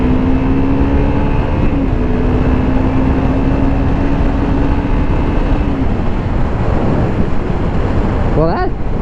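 An older 650 and a newer 250 motorcycle accelerate hard in third gear side by side. A loud, constant engine and wind roar rises steadily in pitch and dominates throughout.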